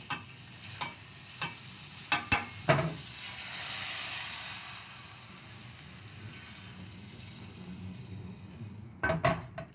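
A tablespoon of butter drops into a hot pot for one-pot spicy pickle-brined chicken and rice, giving several sharp scraping knocks and then a steady, hissing sizzle that swells and fades before more scrapes close it out.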